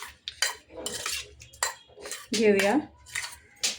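Metal spoon clinking and scraping in a bowl as prawns are mixed with ginger-garlic paste and black pepper, a series of sharp irregular clatters close by, with a brief spoken word in between.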